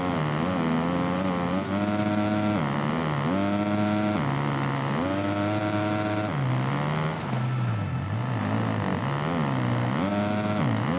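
A motocross bike's engine during an MXGP 2019 season finale race drones loud and close, pitch repeatedly dropping as revs fall off in corners, then climbing again as the throttle opens.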